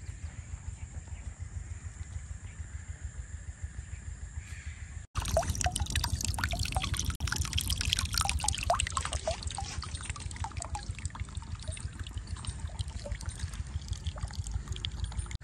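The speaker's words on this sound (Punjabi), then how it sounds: "ਸਾਰੀ ਪਾਲਕ ਨੂੰ ਪਾਣੀ ਲੱਗ ਚੁੱਕਾ।" Irrigation water pours and trickles steadily into a spinach field, a constant close liquid rush that swells noticeably louder partway through and carries on without pause.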